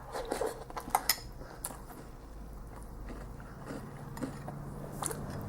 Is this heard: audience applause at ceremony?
no